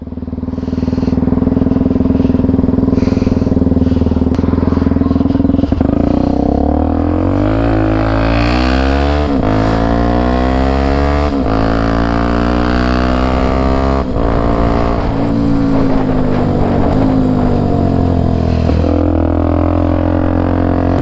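A motorcycle with a snapped clutch cable rides in circles, its engine loud and close, revving up and down continuously in rising and falling sweeps with no pause.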